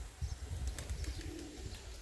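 Pigeons coo over a garden plot in low, soft, repeated throaty notes, with a few faint chirps mixed in against light outdoor background noise.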